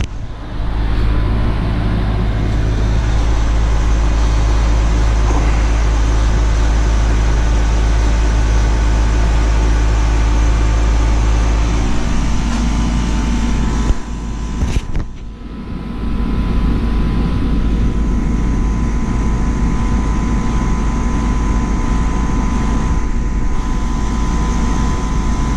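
A car's air conditioning system runs while refrigerant is added, a loud steady blower and compressor drone with a strong low hum, briefly dipping with a short clunk midway before the drone continues.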